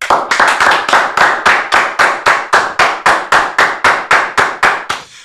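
Clapping honouring Ghanaian footballer Asamoah Gyan at his retirement: loud, sharp claps struck in a steady unison rhythm, about twenty evenly spaced beats, close and crisp with brief quiet gaps between them.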